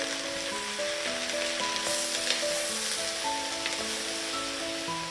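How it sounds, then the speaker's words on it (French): Onions sizzle steadily in a hot pan for onion soup, a dense bright frying crackle with occasional scrapes and clinks as they are stirred, no talking. "Et on va touiller nos oignons de temps en temps pour que ça colle pas."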